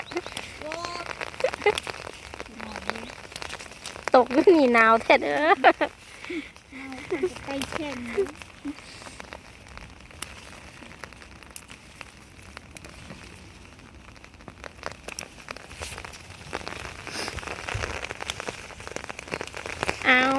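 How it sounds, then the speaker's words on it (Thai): Rain patters steadily on surfaces outdoors while a person talks intermittently over it, with louder bursts of speech in the middle. "ฝนเริ่มตกแล้ว"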